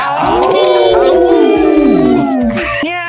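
A person imitates a howl, voicing several long, wavering sliding tones that rise and fall loudly and close, like a wolf or dog, with a brief break near the end.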